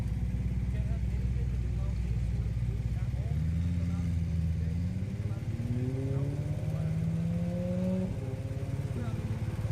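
A motorcycle engine runs nearby amid heavy background noise, its pitch rising and falling through revs, moderately loud and with no talk over it.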